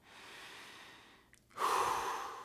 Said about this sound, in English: So if you breathe in and out of your nose quite heavily